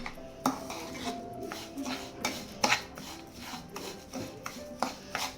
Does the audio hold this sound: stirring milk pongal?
yes